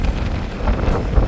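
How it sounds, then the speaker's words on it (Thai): Wind buffets the microphone at a roadside in Thailand where people wait for a tour crew's bus, making a steady, loud low rumble with gusty surges and no voices. "โอ้ยลมแห้ง"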